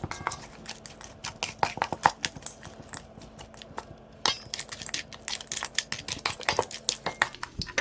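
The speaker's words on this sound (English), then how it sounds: "Take your lump crab. And give this a good mix." Lump crab is stirred into a creamy seafood shell filling, with a steady run of close clinks and scrapes of a utensil against a bowl, plus soft wet squelches, and no talking.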